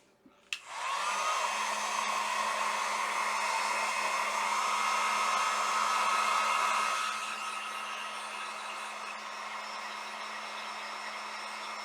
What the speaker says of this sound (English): I'm going to go ahead and dry this with my heat gun because I don't want to smear it.